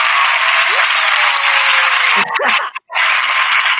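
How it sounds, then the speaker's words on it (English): A husband claps in the background during an interview, a dense, steady patter of applause that runs throughout, briefly breaks near the end, and then resumes, with a voice faintly audible. "my husband's clapping in the background"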